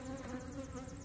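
Honeybees buzz steadily among apple trees in full bloom, a dense, continuous drone with a gentle pulsing waver. It sounds close, with no voices over it.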